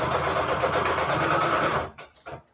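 A home sewing machine running with an unexplained rattle, a loud, fast, even mechanical clatter that runs steadily and then stops abruptly, followed by a couple of faint clicks.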